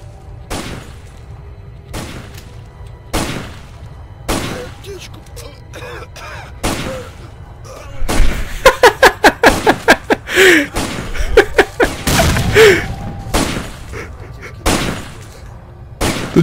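Gunfire in S.T.A.L.K.E.R.: Lost Alpha cracks in scattered single shots, then quickens into rapid bursts midway, with faint voices in the background.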